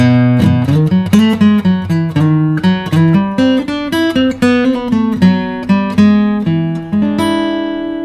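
A clean electric blues guitar lick played slowly, single picked notes with bends ringing one after another, close and clear with no talking.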